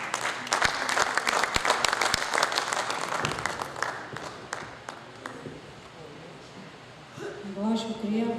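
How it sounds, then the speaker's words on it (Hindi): Mushaira audience applause, a dense burst of many hands clapping that gradually fades, before a voice begins speaking at the end. "आपकी तालियों में लाहौर से मैडम खुसन बानो"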